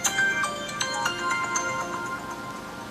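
A phone ringtone plays while a call is placed, a bright repeating melodic tone pattern that is clear and fairly loud, with no talking over it.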